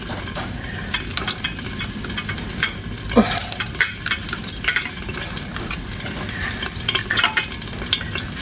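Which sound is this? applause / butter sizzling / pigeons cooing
butter sizzling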